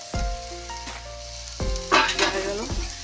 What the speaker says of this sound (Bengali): এরপর আমি নারকেলটা কড়াইয়ের মধ্যে দিয়ে দিলাম